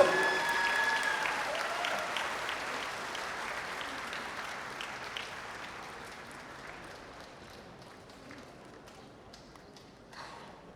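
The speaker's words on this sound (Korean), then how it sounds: "여러분 큰 박수로 함께합니다" Audience applause for a Korean folk dance performance of ganggangsullae by an arts school dance troupe at an outdoor Seoul festival, loud dense clapping at the start that gradually fades and thins out over ten seconds.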